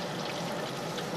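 Dense, steady sizzling and crackling of banana Nutella spring rolls deep frying in hot oil, close and continuous with no voices.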